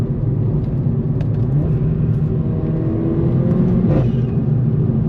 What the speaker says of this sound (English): So if I downshift, you see the RPM go up.